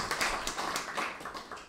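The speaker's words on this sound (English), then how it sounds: "how about a fantastic round of applause for" Applause from an indoor audience at an art talk, a brief patter of clapping at moderate level with no voices over it.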